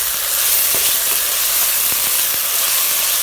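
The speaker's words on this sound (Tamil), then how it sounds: "எல்லாம் சேர்த்து நல்லா வதக்கிடலாம்." Onion, green chili and ginger garlic paste sautéing in a pan for ghee rice, a dense, loud, continuous sizzle with a few faint taps of stirring underneath and no speech.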